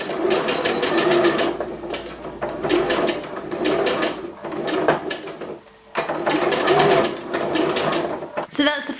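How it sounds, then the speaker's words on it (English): Sewing machine stitching a straight running stitch across a fabric cushion piece, a steady rapid mechanical whirr in bursts with brief pauses, close and loud, with some voice in the background. "just going to do a nice running stitch all the way across, as straight and as neat as possible"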